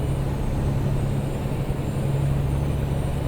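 A Peterbilt 389 truck with a 515-horsepower Cat engine and Eaton Fuller 18-speed transmission in American Truck Simulator, a steady low diesel drone cruising at constant speed, close and unbroken, with no talk.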